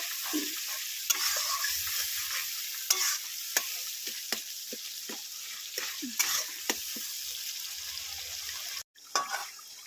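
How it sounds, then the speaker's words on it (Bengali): Cumin, coriander and chili powder being stirred and sautéed with ginger-garlic in a pan on a home stove, a steady soft sizzle broken by repeated scraping strokes of a spoon, close and moderately quiet with no talking. "তারপরে জিরে ধনে, একটু অল্প একটু লঙ্কার গুঁড়ো দিয়ে এখানে কষাবো।"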